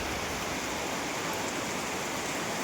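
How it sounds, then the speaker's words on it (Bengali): Heavy rain pours down beside a shop in a town during a downpour, a dense, continuous hiss of water striking surfaces, steady and unbroken, with no voices. "এই দোকানের সাইড দিয়ে খুব খুব বৃষ্টি হচ্ছে"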